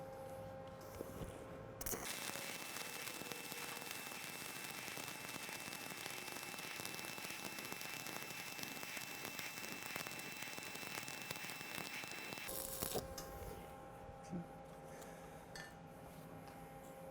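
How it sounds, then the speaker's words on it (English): Arc welding a bead on half-inch steel plate with a backing strip, a steady crackling, sizzling hiss that runs unbroken for about ten seconds, quieter before it starts and after it stops. "So run us a bead in here."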